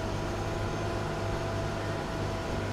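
A truck driven in the farming simulator Cattle and Crops gives off a constant low engine drone, a steady, loud, unbroken hum with no voices.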